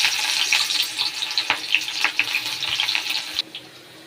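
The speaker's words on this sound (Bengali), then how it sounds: "আমি তবে পেঁয়াজ ফোড়ন দিচ্ছি" Chopped onion sizzling and crackling in hot oil in a wok, a steady bright frying hiss with scattered pops and stirring, close and fairly loud before easing off near the end.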